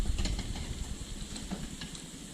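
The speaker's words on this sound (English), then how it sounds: "So when my sausage starts to sizzle, I'll dump in my mushrooms" Sausage sizzles and crackles steadily in a hot pan, a close, busy frying hiss with soft pops throughout.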